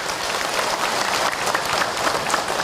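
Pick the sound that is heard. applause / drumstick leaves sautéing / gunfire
applause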